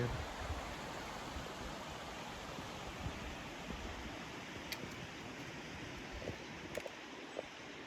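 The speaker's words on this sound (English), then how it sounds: "Willow Creek, running good." Willow Creek running well near the Indian Graves trailhead in Kananaskis, a steady broadband rush of flowing water with a few faint clicks and no voices.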